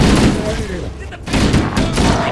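Gunfire from the Halo: Combat Evolved Anniversary game on Xbox Series X, loud rapid volleys of shots under shouted combat voices, with a brief lull before more firing resumes.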